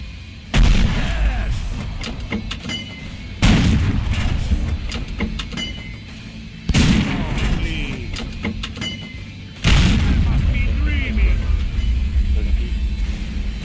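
In World of Tanks, four heavy artillery booms land at even intervals, loud and close, each followed by a rumbling tail, with a voice talking between them.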